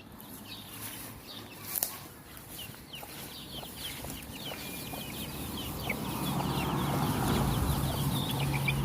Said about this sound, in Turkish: Bakın mesela oradaki 3 tanesi de tavuk arkadaşlar.